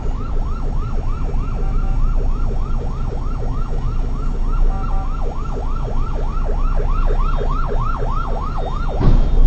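A wailing ambulance siren sweeps up and down in rapid, regular yelps, loud and close over a low traffic rumble, then breaks off with a brief thud at the end.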